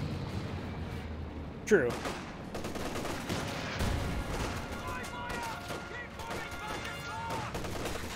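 Artillery barrage in the Company of Heroes strategy game, with dense repeated shell impacts and gunfire rumbling throughout and a sharper blast near the start, heard under a commentator's continuous talk.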